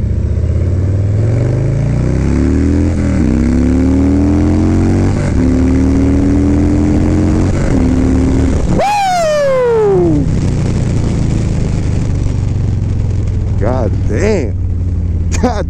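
A 2020 Harley-Davidson Low Rider S motorcycle engine is revved up close and loud, its pitch climbing in several rising pulls before a sharp throttle blip and drop, then settling to a rumbling idle.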